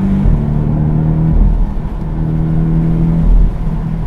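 Porsche 718 Boxster S accelerating on the road, its engine droning loud and close with rising and falling revs and a sharp surge near the end, heard alone without talk.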